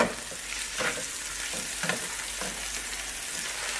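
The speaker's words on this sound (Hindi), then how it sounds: "अब हम चिकन ऐड करेंगे जो कि 500 ग्राम है। फ्राई करेंगे चिकन को" Chicken, about 500 grams, frying in a pan with a steady close sizzle, broken by soft scrapes and light taps as the pieces are stirred.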